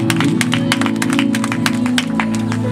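Wedding guests at a Rwandan choir couple's ceremony clap together in a dense, steady burst of applause that runs nearly three seconds, loud and close, with music or a held tone running underneath.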